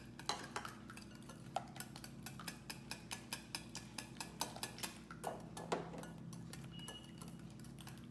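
A spoon stirs powdered sugar into a French toast mixture in a bowl with quick, steady, rhythmic clinks against the side, close and fairly quiet over a low background hum.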